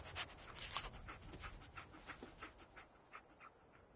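Dogmeat, the companion dog in the video game Fallout 4, panting quietly in a steady run of quick, rhythmic breaths, faint and close, with no talk over it.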